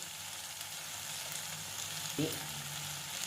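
Ridge gourd curry with onions fries in a pan, a steady close sizzle with a brief stirring scrape partway through.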